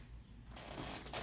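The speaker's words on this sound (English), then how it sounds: "my cards are all jumbled up, so just give me a second to shuffle." Tarot cards being shuffled, a soft, quick riffling and brushing that grows denser and louder after a quiet start, close by with no talk.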